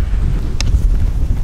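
Strong wind buffets the microphone at an airfield, a steady low roar with a brief brighter gust or rustle partway through, loud and close with no voices.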